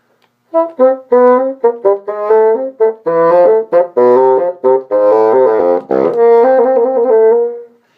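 A solo bassoon plays a quick run of arpeggiated notes with added out-of-key ornaments, phrased in short bursts and ending on a held tone after a trill, close and clear.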